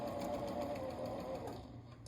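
Sewing machine running a short back stitch through fabric for a pillow, a fast steady mechanical whir with a fine rapid needle rhythm, faint and close, slowing slightly toward the end.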